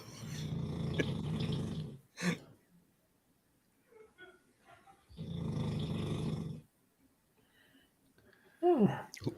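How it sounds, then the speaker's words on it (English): Slow, deep snoring comes in two long rasping breaths, each a couple of seconds long with a quiet pause between, close by and fairly loud, with brief faint voices in the gaps. "Who's snoring?"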